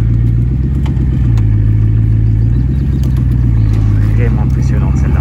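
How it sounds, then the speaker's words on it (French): Bugatti Chiron Pur Sport idling and creeping up into a transport truck, a steady low engine drone throughout with clattering under loud continuous sound, no clear revving. "la Pure Sport qui rentre dans le camion avec la légende du ciel derrière"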